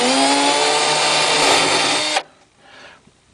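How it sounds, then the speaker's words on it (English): A small drill whines steadily at high speed while pre-drilling screw holes in a tube radio cabinet, loud and close for about two seconds, then stops abruptly, leaving quiet handling noise. "So I'm using a small drill to pre-drill the screws"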